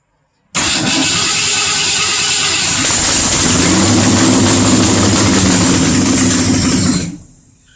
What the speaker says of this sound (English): Well, I got a running engine.